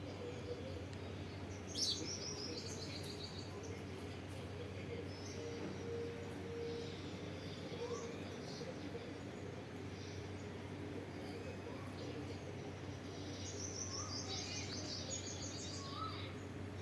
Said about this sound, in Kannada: ನಾನು ಚಿಲಿಪಿಲಿಯನ್ನು ಹಾಕಿದ್ದೀನಿ, ನೀವು ಕೇಳಿ ಆನಂದಿಸಿ